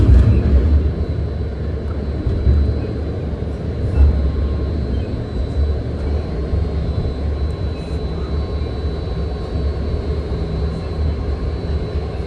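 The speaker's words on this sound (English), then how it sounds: "Those are Red Line, Millbrae bound train passing us." A Red Line BART train bound for Millbrae passes alongside a moving six-car train, heard as a loud, steady low rumble and roar throughout with no break.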